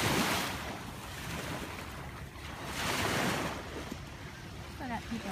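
Surf washing onto the beach at Eilat, Israel, with waves swelling and receding in broad rushes, steady wind noise across the microphone and a faint voice near the end.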